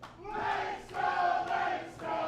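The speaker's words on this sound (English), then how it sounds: "They are singing the Stowe anthem." Darts crowd at a CDC Tour Finals night singing a stadium anthem together, a loud sustained chorus that swells in waves across the hall.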